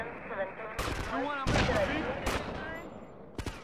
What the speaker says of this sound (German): Zoomen und ins Bein schießen.